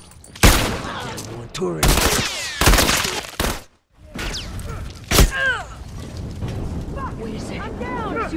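Gunfire bursts from a shooter game ring out loud and close, several sharp volleys with chaotic battle noise between them, while a voice speaks briefly over the action.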